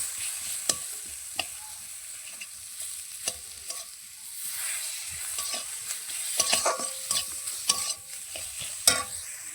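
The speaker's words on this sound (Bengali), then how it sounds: "লঙ্কা গুঁড়ো দিয়ে দেবো এটাকে ভালো করে কষিয়ে নেবো" Winter vegetables sautéed in a pan with salt and chili powder hiss steadily under frequent, irregular spatula scrapes and clatters. The scraping grows busier toward the end, and nobody speaks.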